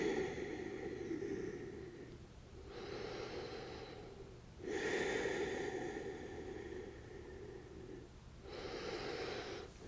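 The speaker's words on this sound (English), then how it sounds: "Taking a couple more breaths here." Slow, deep breaths during hip stretches come close and soft: four long airy inhale and exhale cycles with short pauses between them, alone in a quiet room.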